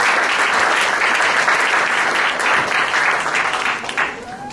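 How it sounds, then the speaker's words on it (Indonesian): A church congregation in Indonesia claps together in a loud, dense wash of applause that holds steady throughout, then thins slightly and fades toward the end. "berikan tepuk yang paling meriah buat ya"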